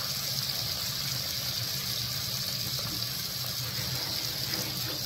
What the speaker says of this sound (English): Give my hands a quick wash here.